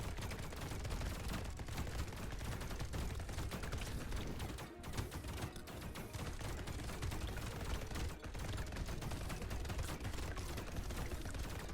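A chain gun fires nonstop in a video game, a dense, loud mechanical roar of rapid rounds running for many seconds with only tiny dips in the stream.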